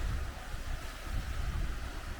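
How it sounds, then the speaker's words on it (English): Indian Ocean surf off the West Coast of Australia washes in a low, continuous rumbling hiss, steady and moderately faint, with wind buffeting mixed in and no voices. "This is the Indian Ocean, whatever it is."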